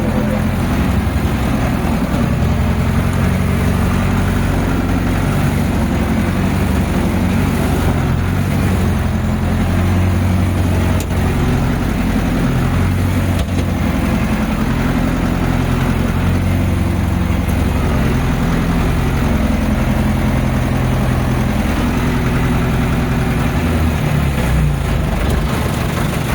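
A farm vehicle hauling rolls runs with a steady, loud low engine drone throughout, rumbling continuously without pause.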